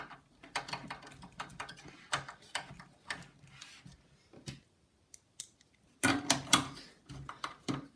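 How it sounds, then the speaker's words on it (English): Screws are driven into a computer case by hand, giving a series of irregular small clicks and ratcheting scrapes. A louder cluster of clicks and scrapes comes near the end. "I'm just screwing the other one."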